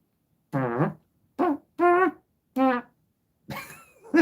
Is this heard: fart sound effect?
yes